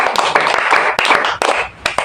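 A church congregation claps hands together in a quick, uneven burst, loud and close, with sharp individual claps standing out over a dense spread of clapping.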